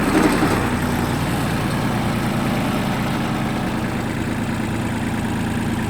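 A Mitsubishi MT200 tractor engine running close by, a steady low diesel rumble with a brief lift in revs at the start before settling back to an even throb.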